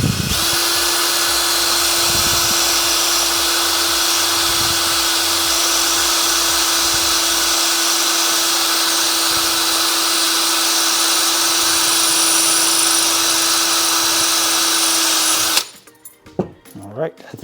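A power drill whines steadily and loudly with a worn bit, drilling out a staple on a Lionel 517 Standard Gauge caboose, running continuously for about fifteen seconds before stopping abruptly.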